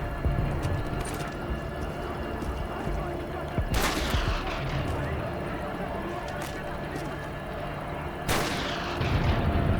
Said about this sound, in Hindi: लगातार फायर कर रहा है।